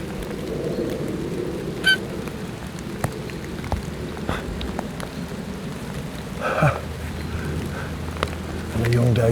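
Steady rain pours in woodland in the Chilterns, a dense continuous hiss with a few louder drips and patters, close and even throughout with no speech.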